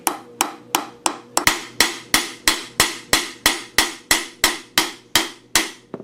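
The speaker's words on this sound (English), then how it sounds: "I'm just going to use a lighter hammer and I'm just going to tap around the edges." A light hammer taps around the edges of a carrier bearing on a Toyota Tundra or Tacoma in a steady, even rhythm, about two to three blows per second, each strike sharp and ringing briefly, close by.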